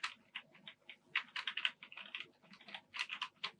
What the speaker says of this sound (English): And I just type random things in here.